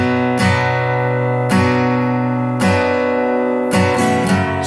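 An acoustic guitar strums chords in a steady pattern of four down strums followed by a quick down-up, each strum ringing out fully, loud and close with no voices.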